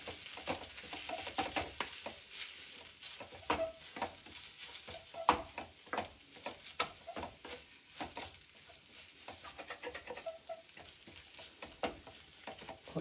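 Grated boiled potatoes frying and being stirred in a pan of roasted spices, a soft continuous sizzle broken by frequent scraping stirs, close and fairly quiet with no talking.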